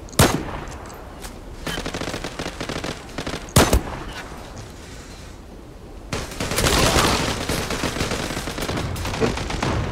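Gunfire in the online shooter Zula cracks through a busy match, with sharp isolated shots and a dense rattling stretch of rapid fire toward the end, loud and close.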